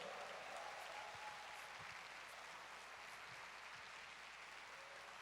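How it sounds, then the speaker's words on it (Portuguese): An audience at a CPAC 2021 speech applauds, a faint, steady spread of clapping heard from a distance that holds without a pause. "queria pedir uma salva de palmas para eles"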